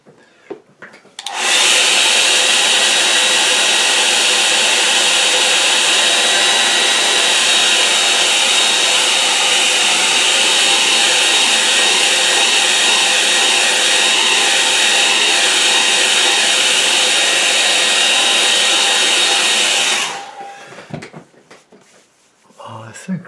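A hair dryer blasts continuously at close range for about eighteen seconds, drying a watercolour painting, a loud steady whooshing roar that cuts off abruptly, with faint handling sounds before and after.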